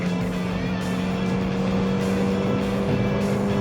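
A 200-horsepower Ford Fiesta ST engine pulls steadily in fourth gear, its droning note slowly climbing as the revs build, heard continuously from inside the car with no talking.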